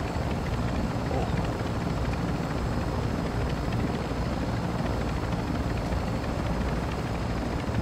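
A helicopter in the battle royale game Mini Royale, a loud continuous rotor drone and engine whir filling the whole stretch at a steady level.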